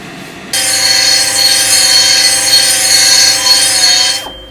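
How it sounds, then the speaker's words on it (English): A carbide bit grinds powder coat out of two bolt holes in a Teraflex over-the-knuckle track bar frame bracket for a Jeep TJ, a steady, loud, high whine that runs unbroken for about four seconds. "The 2 bolt holes here you see me cleaning out with carbide bit."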